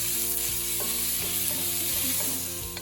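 Sausage browns in a pot with a lively sizzle while a utensil stirs and scrapes it in several close, uneven strokes, with no voices over the frying.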